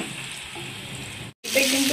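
Snake gourd and peanuts fry in a hot pan with a steady, close sizzle that cuts out for a brief moment near the end, then returns brighter.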